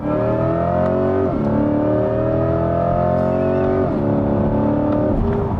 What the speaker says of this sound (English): It is such a genuinely good feeling in 2025 to have a V8 just puking out exhaust without a care or a turbo in the world